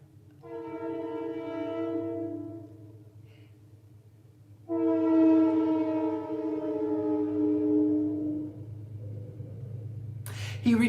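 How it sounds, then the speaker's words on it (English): A train sounds a long, loud horn twice, each blast a sustained tone held for several seconds over a low steady rumble of rail movement, with a sharp clatter at the very end. "There's a train, by the way."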